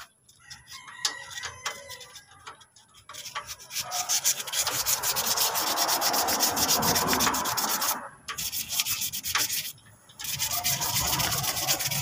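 Rhythmic rough scraping of sandpaper rubbing against a brake part, close and continuous with short pauses, while a rooster crows faintly in the background.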